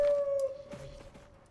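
A pet dog howls in the survival game Icarus: one drawn-out, steady tonal howl that fades into soft game ambience, fairly quiet, with no talking.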